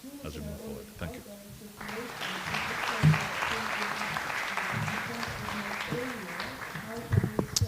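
A voice speaks briefly, then a conference audience breaks into sustained applause that continues steadily, with a speaker talking over the clapping.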